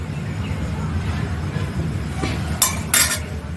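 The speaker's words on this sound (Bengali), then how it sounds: "আমি প্রথমে একটু দেখে নিচ্ছি খুন্তি দিয়ে যে আলুটা সিদ্ধ হয়েছে নাকি" A spatula poking potatoes in a cooking pot for a Bengali fish curry, a few sharp metallic clinks and scrapes near the end against a low background murmur.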